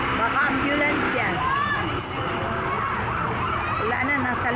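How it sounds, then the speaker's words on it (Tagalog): An ambulance siren wails steadily through a noisy street near a fire above a restaurant opposite a new public market. It rises and falls over a constant crowd and traffic din, and people chatter throughout. "Baka ambulance yan."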